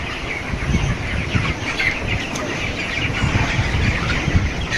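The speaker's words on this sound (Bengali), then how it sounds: "এখানে পোলট্রি মুরগি দুই হাজার আছে" Poultry chickens on a farm of about two thousand birds give a dense, continuous chorus of clucks and chirps that stays loud and steady throughout.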